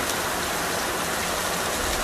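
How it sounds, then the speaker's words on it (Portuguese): Rain pours down steadily, a dense, even hiss of falling water filling the scene with no voices or other sounds over it. "Tomar banho de chuva."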